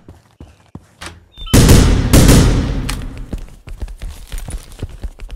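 A loud burst of gunfire in the video game The Final Station, with booming, echoing blasts, followed by scattered thuds and clicks; no talking.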